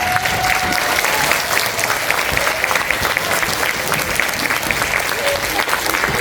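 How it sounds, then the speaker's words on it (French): A school audience applauds loudly for classmates after a fairy-tale play, sustained close clapping with some crowd noise and voices mixed in throughout. "on applaudit super fort nos camarades."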